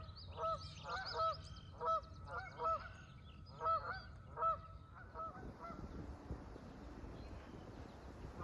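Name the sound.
sandhill cranes calling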